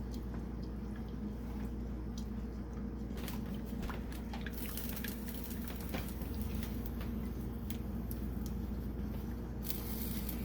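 Chocolate cake batter is stirred in a frying pan, giving soft, wet, irregular squishing and dripping sounds over a constant low hum.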